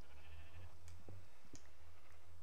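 Sheep in a block-building survival game give a couple of faint, brief bleats against a low humming background with small clicks, no voices.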